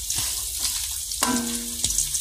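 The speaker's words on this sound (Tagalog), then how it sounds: "pagkatapos ko mag-prito ng talong, ito naman ang prituhin ko. Tuyo." Small dried fish (tuyo) frying in hot oil, a steady loud sizzle with crackling bursts and a brief tonal clank partway through, no talking.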